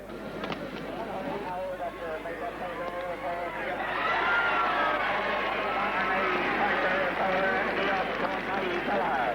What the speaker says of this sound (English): Through the roar of the crowd, you can hear the clash of the ash